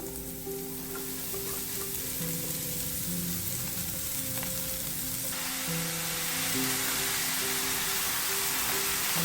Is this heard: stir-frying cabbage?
yes